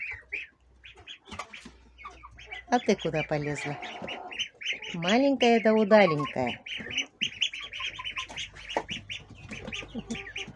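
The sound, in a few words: chickens and rooster in a village yard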